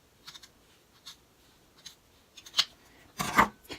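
Scissors trim a rectangular piece of black fabric for a children's toy car play mat, giving a few faint, scattered snips, with a louder cluster of cuts near the end and no talking.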